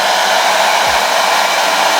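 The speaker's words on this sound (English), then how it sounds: "This is my old blow dryer." An old blow dryer runs in a steady, loud, unbroken rush of air, close up and alone.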